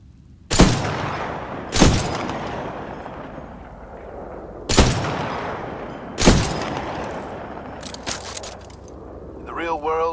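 Single rifle shots in the shooter Titanfall 2 at a firing range, four or five loud, close cracks spaced a second or more apart with ringing tails, and a voice talking briefly at the end.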